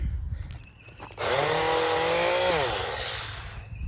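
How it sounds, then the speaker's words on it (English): Mouse sander starting up and sanding a sycamore wood bowl, a loud, close, steady motor whine and buzzing abrasive hiss that holds for a couple of seconds, then eases off slightly. "let me see how it goes with this mouse sander"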